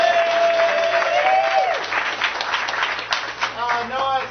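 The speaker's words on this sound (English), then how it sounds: "Give him a round of applause" At a live improv comedy show, an audience applauds a volunteer from the crowd. Steady, fairly loud clapping runs throughout, with a voice talking over it.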